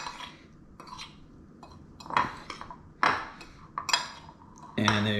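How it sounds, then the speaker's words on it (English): A fork knocks and scrapes against a bowl while mixing batter for fish, with irregular clinks and taps of varying loudness, close by, ending in a louder ringing clatter. "It's really easy to mix with a fork."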